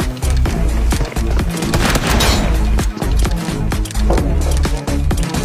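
Rapid, dense gunfire from a shooting video game in a solo-versus-four-player match, with sharp shots crowding together in loud bursts across the whole stretch and no voices.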